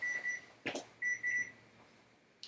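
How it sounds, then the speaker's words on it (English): An alarm goes off nearby in short bursts of high electronic beeping, two pairs of tones separated by a brief clunk, fairly quiet against a hushed room. "alarm's going off"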